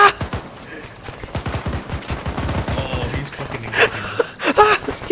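Gunshots ring out in rapid, loud bursts like machine-gun fire, mixed with gasping voices.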